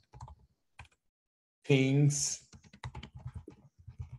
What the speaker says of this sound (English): I told y'all I can't type